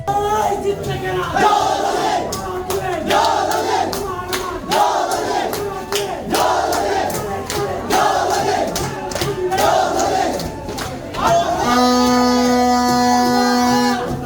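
A crowd of winning zoology department students parades in a celebratory procession at a university inter-department football tournament, loud continuous cheering and chanting with rhythmic drumming, and a sustained horn blast near the end.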